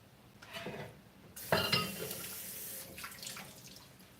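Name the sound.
washing a cutting board under running tap water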